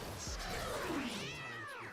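A cat meows in a video game during night-time hunting, with a few close, clear, drawn-out mewing calls that rise and fall over about two seconds with no talking.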